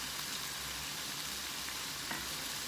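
Fresh tomato sauce simmers and sizzles steadily in a pan, a soft continuous frying hiss with occasional faint stirring clicks and no voices.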